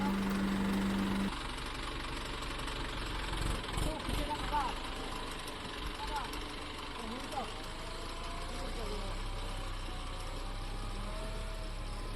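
A vehicle engine runs while the vehicle reverses on a muddy field in rain, giving a low, steady rumble with some knocking, and voices talking over it.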